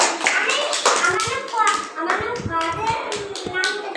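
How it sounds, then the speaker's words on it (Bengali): Children clap for a classmate in a Bengali classroom lesson, uneven bursts of small hands under steady chatter and a teacher's voice throughout. "আসিয়াকে একটা হাততালি দাও।"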